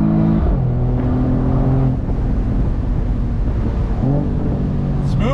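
A 2022 Mercedes-AMG E53 with a 9-speed automatic revs and downshifts under braking, engine pitch stepping up sharply in quick blips, then settling, with a final rising rev near the end, loud and close.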